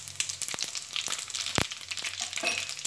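Cumin and fennel seeds sizzle in hot oil for a sweet mango pickle, a steady close crackle with small pops and a sharper spatter in the middle, no voices.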